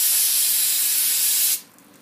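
Aerosol parts cleaner sprayed onto RV generator parts, a single loud, steady hiss lasting about a second and a half before cutting off abruptly into quiet.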